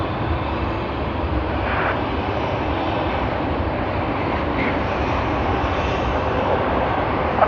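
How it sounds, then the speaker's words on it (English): An airliner on the Christchurch to Sydney service lands on runway 34 at Sydney Airport, heard as a steady, broad jet roar from a distance that holds level for several seconds with no talk over it. "F138 Christchurch to Sydney service has arrived on runway 34"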